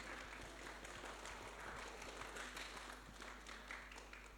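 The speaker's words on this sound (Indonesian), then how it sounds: "Tepuk tangan lagi." Faint, steady applause rises from a seminar audience, a dense even patter of clapping heard at low level over a constant low hum.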